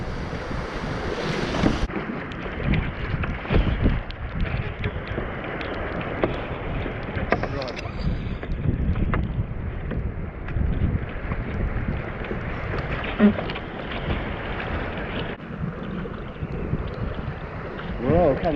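A small sailing boat sets off from Newport on the Welsh coast and pushes through choppy sea waves, with steady near splashing and rushing water under strong wind buffeting the microphone.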